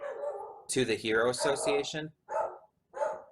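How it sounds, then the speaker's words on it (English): A pet dog barking inside a room, with a few short, fairly close barks that follow and break up a man's speech. "Excuse the dog. I don't know what she's barking at now."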